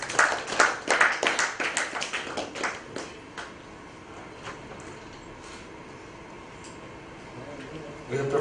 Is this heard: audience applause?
yes